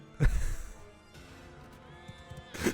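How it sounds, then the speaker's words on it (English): A horse goes down and neighs during a battle in the Bannerlord video game. Two short whinnying bursts, one near the start and one at the end, stand out over quiet game background sound. "That horse went down hard."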